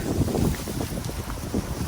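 Steady cold wind buffets the microphone with a low, blustery rumble that persists through the whole moment, with no voices.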